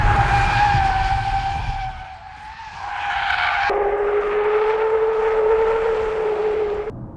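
Diesel Porsche Panamera with over 400 bhp accelerating on an open road, its engine drone rising steadily in pitch, dropping with a gear change, then climbing again, loud and close.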